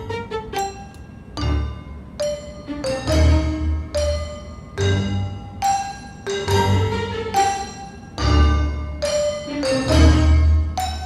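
A musical track in Logic Pro X with a reverb plugin added, its phrases of plucked, sustained notes ringing out with a roomy tail that hangs between hits, loud and alone.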